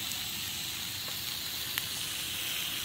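A pot of green beans cooks on a stove inside a van, giving a soft steady hiss of steam with faint crackles throughout.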